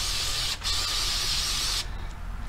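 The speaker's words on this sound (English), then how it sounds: "Give that a good spraying." Cleaner is sprayed on parts of a Lakefield Savage 64B rifle: a steady hissing spray runs for a couple of seconds, then cuts off, leaving a faint low rumble.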